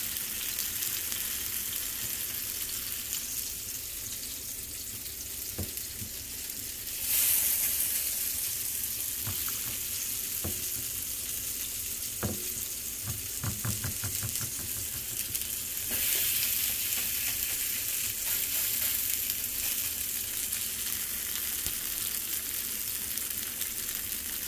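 Arepas browning in a thin film of oil in a skillet give a steady, close sizzle for the whole stretch, with brief crackling bursts and light scraping or clicking in the middle.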